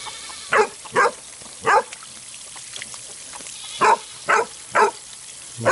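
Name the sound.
dog barking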